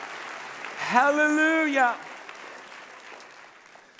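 A church congregation claps and applauds in a steady, diffuse wash of hand claps beneath a man's loud, drawn-out shout of praise. The applause gradually thins out afterward.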